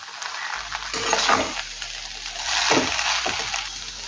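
Veg chowmein noodles with winter vegetables, black pepper and fried egg being stir-fried in a pan: a close, continuous sizzle with scraping stir strokes swelling and fading, and no talking.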